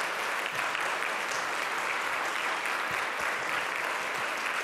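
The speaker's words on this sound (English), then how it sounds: "please rise and take a round of applause" Applause from a morning breakfast audience at a Puerto Rican Day Parade event as administration members stand, a dense, steady wash of clapping filling the room at a constant level throughout.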